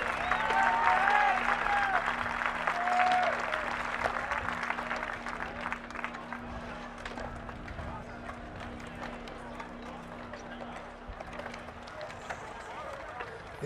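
Crowd at a bowling prize ceremony gives announcer Dave Duncan a steady round of applause with a few cheers, a dense even clatter holding for over thirteen seconds under faint voices.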